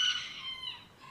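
A chicken on a farm gives a brief, close squawking call, a short bright cluck-like sound with no talking over it.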